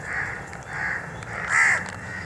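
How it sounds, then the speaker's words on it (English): Crows caw in a garden in Pakistan, three loud harsh calls in a slow series, the last one nearest and strongest, with no talk. "The only noise is that made by the crows."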